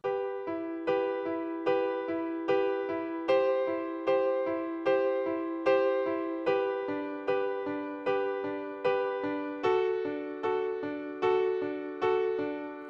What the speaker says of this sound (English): So the whole progression done in that way would sound like this.